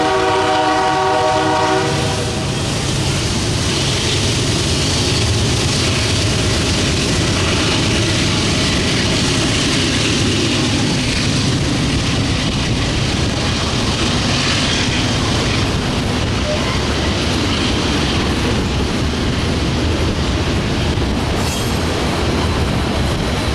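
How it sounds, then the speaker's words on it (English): A southbound CN freight manifest led by a cowl-bodied Dash8 locomotive in 1990s zebra-stripe paint passes close and loud, opening with a horn blast and then a long, steady roar of rumbling wheels and clattering cars. "along came a southbound manifest with a rare CN Cowl Dash8 in the lead"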